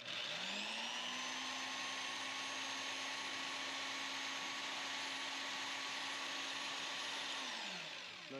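A Wen spindle sander runs with a shared shop vacuum attached, giving a loud, steady high whine with a droning roar that holds for several seconds before winding down at the end.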